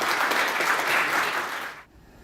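Full audience applause at a news outlet's founding ceremony as an official is welcomed to the podium, dense and steady for nearly two seconds before cutting off into quiet room tone.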